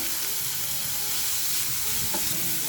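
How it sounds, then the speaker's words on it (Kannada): Carrot, capsicum and chopped tomato frying in oil on a low flame, giving a dense, continuous close-up sizzle that stays even throughout, with a faint tap of a utensil near the end and no voices. "ಲೋ ಫ್ಲೇಮಲ್ಲಿಟ್ಟು ಫ್ರೈ ಮಾಡ್ಕೊಬೇಕು, ನಮಗೆ ಒತ್ತಬಾರ್ದು."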